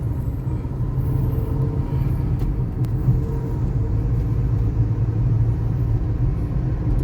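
A 2008 Toyota Altis with a manual gearbox, nearly a million miles, and coolant loss runs at a steady idle, a close, even low rumble that holds for several seconds with faint ticks.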